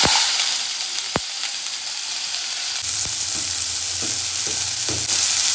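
Cumin seeds and onion frying in hot oil in a home kitchen, a steady loud sizzle running throughout with a few sharp clinks of a utensil against the pan.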